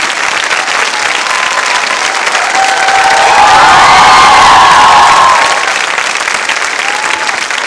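A large audience at a Holi quiz show at a girls' B.Ed college applauds loudly and continuously, swelling midway with some cheers and whoops before settling back to steady clapping.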